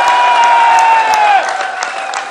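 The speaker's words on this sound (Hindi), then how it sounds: "इसलिए तालियां बजाए" A crowd applauds at a bar association convention in Gujranwala, with thick, continuous clapping and some cheering mixed with a sustained tone in a large hall, fading a little after the first second and a half.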